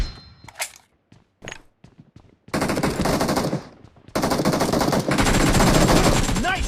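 Bursts of automatic gunfire from the BGMI mobile battle royale game, with a few isolated shots early on, then long, loud, sustained volleys filling the rest of the clip.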